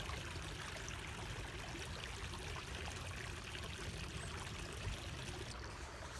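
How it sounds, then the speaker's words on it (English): Creek water flowing around someone standing barefoot midstream, a steady, faint, even trickling rush that continues without pause and with no voices. "I'm standing out here barefoot in the middle of a creek"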